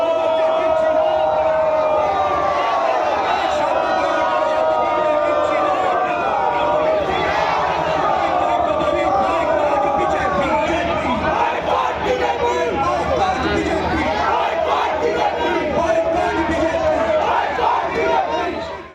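A large crowd of BJP and Trinamool supporters chants and shouts slogans during a street clash over posters in Baranagar, a loud, dense mass of voices close by, rising and falling in waves for the whole span.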